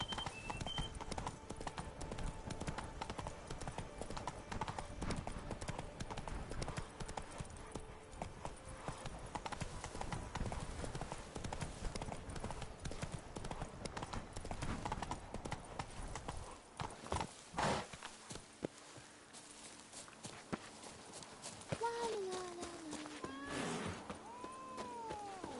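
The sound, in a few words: hooves of Geralt's horse Roach, video game The Witcher 3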